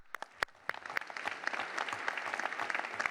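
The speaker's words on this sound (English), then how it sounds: "Can we get a round of applause for them?" Audience applause for the panelists at an Air Force summit presentation on global reach, a steady wash of many hands clapping that builds after a few sharp early claps and carries on, fairly close, with no talking over it.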